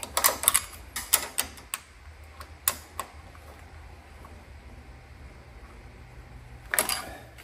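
Quick bursts of sharp metallic clicking from a wrench tightening nuts on a Briggs & Stratton 21 hp V-twin engine, with clusters near the start, mid-way and at the end and quieter pauses between.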